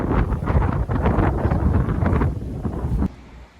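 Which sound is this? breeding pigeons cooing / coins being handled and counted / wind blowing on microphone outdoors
wind blowing on microphone outdoors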